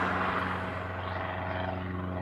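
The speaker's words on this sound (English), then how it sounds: "And then there's another C-17 heading out." A C-17 military transport aircraft departing a Hawaii airfield, heard as a continuous jet roar with a low tonal hum, steady and moderately distant throughout.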